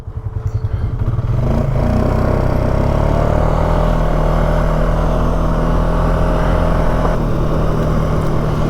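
Polaris side-by-side running in four-wheel drive outdoors, its engine building from a rough idle into a loud, steady drone that holds close by without fading, with no talking.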